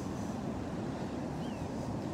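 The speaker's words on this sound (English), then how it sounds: "Yeah, the waves are gorgeous this morning." Atlantic Beach ocean waves breaking on a morning shore, heard as a steady, broad wash of surf with wind buffeting the microphone, continuous and fairly even throughout with no talk.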